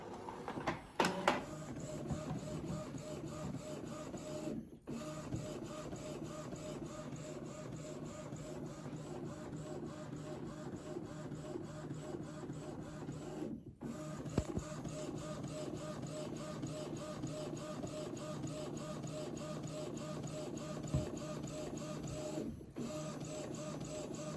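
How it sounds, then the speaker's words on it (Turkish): An Epson L3251 inkjet printer prints a document, a steady mechanical whirr with repeating rhythmic carriage passes and a few brief pauses, fairly quiet and close, with no talking. "Yazdır diyoruz buradan. Evet şu an yazdırıyor."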